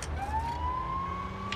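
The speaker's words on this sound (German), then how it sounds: "Oh, okay, die Sirene wollte ich nicht anmachen." A police car siren from the LEGO City Undercover video game wails in a rising tone over a low rumbling game-engine and background sound. The siren is steady and moderately loud across the short stretch.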